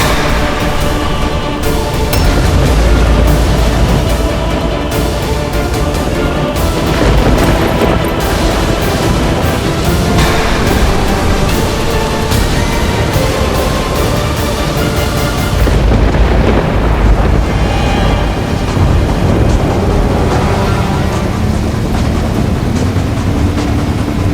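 Loud, sustained thunder rumbling and booming throughout, a dense, continuous low roar with crackling surges, as part of a dramatic mythological scene.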